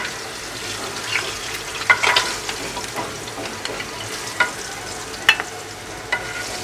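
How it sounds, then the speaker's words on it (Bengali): Hot oil splutters in a pan as turmeric-coated food fries, giving a steady low sizzle broken by a few sharp, close pops. "ফুটিস না রে বাবা, আর ভাজবো না, ভয় লাগে"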